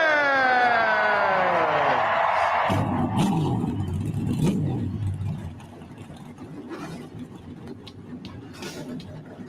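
A car engine cranks and catches with a rising, sweeping whine, then settles into a rough, rumbling idle with a few revs before fading to a lower, steadier drone, all without talk.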